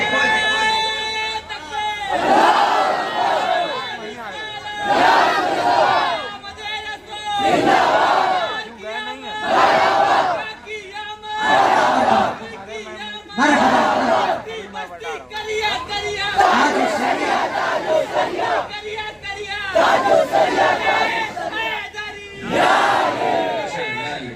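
A large crowd shouts slogans in loud rhythmic bursts, each call followed by a brief lull, a repeating chant that rises and falls throughout.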